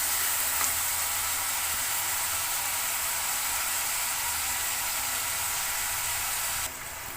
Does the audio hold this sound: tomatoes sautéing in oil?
yes